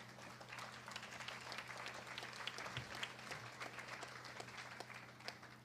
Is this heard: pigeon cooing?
no